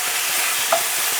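Beef searing in a hot pan gives off a steady, dense sizzle with a brief brighter crackle near the middle, close and continuous with no talking.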